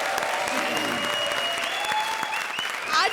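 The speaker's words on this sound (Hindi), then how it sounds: "जोरदार तालियां चाय के लिए" A studio audience at a comedy show claps in a dense, sustained burst, with background music tones sliding through and a brief swell near the end.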